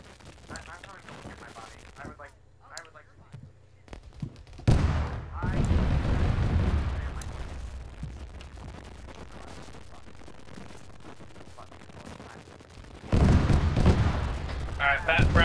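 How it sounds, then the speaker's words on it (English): Rocket artillery shells land nearby in a video game, with two heavy booming impacts that each swell into a long, rumbling roar, the second arriving sharply late in the clip. "We have artillery landing near us. The rockets."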